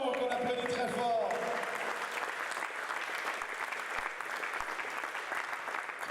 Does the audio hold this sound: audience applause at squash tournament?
yes